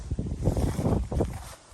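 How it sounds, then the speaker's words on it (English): Wind buffeting a microphone outdoors on a backpacking trip in the Great Smoky Mountains, a close, continuous low rumble that surges and dips in gusts throughout, with no talk. "Look how windy it is out here."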